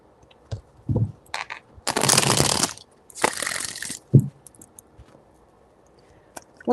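Tarot cards being shuffled in three bursts of riffling and shuffling, each a dense papery rustle lasting about a second, with softer card taps and handling sounds in between, close and fairly quiet, no talking.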